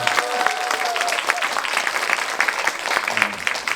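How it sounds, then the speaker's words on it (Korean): Warm audience applause at a children's song concert honoring a composer, a dense, continuous clapping that fills the hall for several seconds, with a faint tone and a brief voice early on. "다시 한번 그래서 정보영상 들어가실 때 뜨거운 박수로 격려 주시면 감사하겠습니다."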